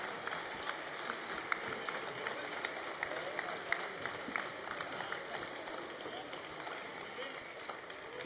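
Steady applause from an audience at a university student recognition ceremony, many hands clapping continuously at moderate distance for several seconds, with a voice speaking faintly underneath.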